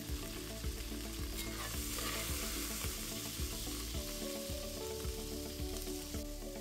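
Beef sizzles and fries steadily in butter lard in a hot pot, with light scraping and stirring clinks throughout, close up and without talk.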